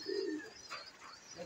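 Pigeon cooing from a fancier's loft of gift birds and breeders, a soft low coo at the start followed by fainter coos and bird calls, close by with no talk.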